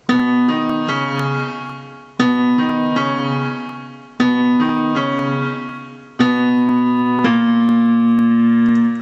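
A piano plays a section of a song, with repeated chord-and-melody phrases struck in four distinct groups, each attack ringing and decaying, close and solo with no talking.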